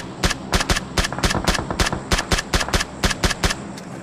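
Rapid bursts of automatic gunfire crack out in a video game, a fast, evenly spaced string of loud shots running for several seconds and ending in a few scattered final rounds.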